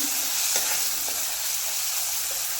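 Turmeric and spices stirred in a hot frying pan for a potato bhaji, a loud continuous sizzle with a few soft spoon scrapes, close and without speech.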